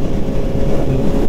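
A 2022 Honda CB1000R motorcycle with an IX Race exhaust, its engine derived from the CBR1000 sport bike, rides on a road, giving a steady, loud engine drone with wind rush throughout.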